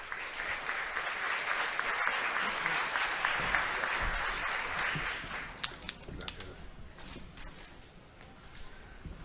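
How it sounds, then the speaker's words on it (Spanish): An audience at a pest-control conference in Peru gives a sustained round of applause to welcome a speaker, dense clapping that tapers off into scattered claps and quiet. "Recibimos con un fuerte aplauso al doctor Vicente Unanue"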